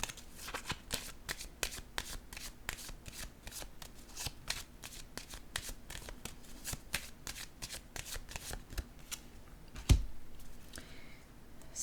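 Playing cards drawn and handled from a deck, a close, continuous patter of rapid papery flicks and riffles, with one louder thump near the end.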